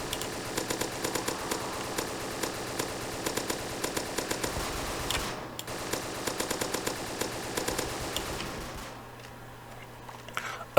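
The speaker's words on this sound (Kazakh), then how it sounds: "Мощный пулемет екен достар, оғы екен." Rapid bursts of machine-gun fire from a powerful RPK light machine gun in a zombie video game, sustained rattling volleys with brief pauses, loud and close, ending with a sharp final shot.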